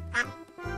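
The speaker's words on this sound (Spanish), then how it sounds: "Nuestro querido pato. ¡Cuac, cuac, cuac, cuac!" Pato, the cartoon duck from Pocoyo, lets out a pair of short, bright, nasal quacks, loud and close, with a brief pause between them.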